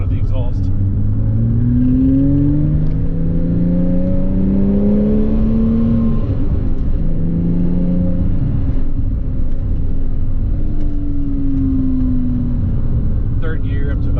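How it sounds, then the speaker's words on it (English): A Porsche Cayman S 987.1 engine revs up and down through the gears, a loud steady exhaust drone rising in pitch as it accelerates in third gear toward about 50 mph, with faint talk over it. "just enough to get the sound of the exhaust"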